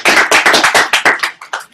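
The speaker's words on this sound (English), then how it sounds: "Round of applause." A small group claps briefly and loudly during a general session meeting, making about a dozen sharp, close hand claps that taper off.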